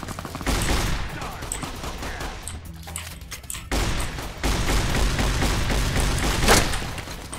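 Shotgun fire in the video game Fallout New Vegas: loud repeated blasts and a dense burst of gunfire over a steady background of combat noise, with a short lull partway through.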